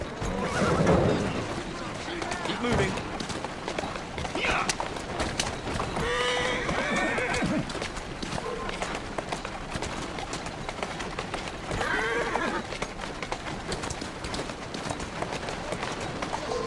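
A horse whinnies and hooves clip-clop in the video game Assassin's Creed Syndicate, over a busy street-noise bed with birds, with a voice speaking briefly.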